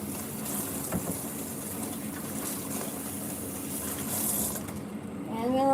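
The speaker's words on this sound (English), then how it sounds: "we'll just rinse it off and everything is already clean." Food being rinsed under running tap water, a steady close hiss of flowing water that swells slightly near the end, with a brief faint voice at the close.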